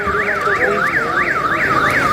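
An emergency siren wails during a mock drill at an election commission headquarters: a loud, close, continuous rising-and-falling tone that cycles about twice per second, with nothing else heard.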